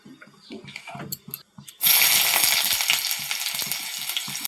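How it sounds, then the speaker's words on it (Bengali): Chopped onion and tomato hit hot oil already seasoned with whole spices like cardamom, cloves, cumin and peppercorns, bursting into a loud, steady sizzle after a few quieter kitchen clatters, then frying continuously close by. "তেলের মধ্যে দিয়ে দেবো কেটে রাখা পেঁয়াজ আর টমেটো।"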